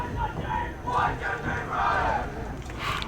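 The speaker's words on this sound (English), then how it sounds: "as we have the Falcons also cheering, clapping it up" Varsity soccer crowd of Dunedin Falcons fans cheering at a high school match, massed voices rising in loud swelling shouts with clapping mixed in, sustained and moderately near across the whole stretch.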